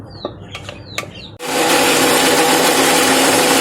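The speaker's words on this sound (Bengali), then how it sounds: "তো আমি এইভাবে একটু পিষে নেব ভালো করে" An electric mixer grinder with a small jar starts up and grinds sago, a loud, steady high-pitched whir that follows a few light taps and clicks.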